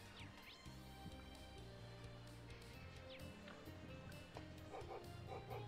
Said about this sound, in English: That dog's always making a racket.